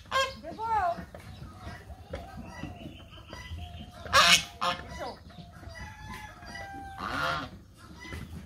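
Ducks honk in a village yard with a few loud, scattered calls and some squawks rising over the ambient noise. Voices murmur faintly in the background.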